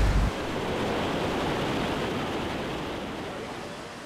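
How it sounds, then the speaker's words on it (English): River rapids at a site where a dam was removed, a steady, loud rush of moving water filling the whole clip, close by and continuous with no voices. "as you get close to it, you can hear the rapids, you can hear the water moving"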